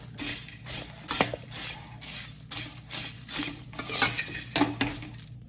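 Rajwadi chevda mixed with sev and sugar is stirred in a pan: rhythmic rustling sweeps of the dry crunchy mix with metal spoon scrapes and clinks, repeating roughly every half second, close and without talking.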